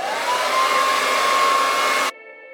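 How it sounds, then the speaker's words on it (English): A hair dryer blows steadily on the cool setting while drying hair, a loud close rushing whine with a faint rising tone, running continuously for about two seconds before cutting off to a quiet hum. "I'm going to blow dry my hair on cool air"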